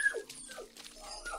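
A puppy whimpers and yips in short, faint, high-pitched cries spread through a brief stretch, with no talking over it.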